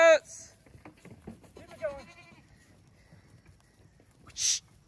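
Goats bleating while clearing brush outdoors, several loud wavering bleats near the start and one more near the end, under a man calling to the herd.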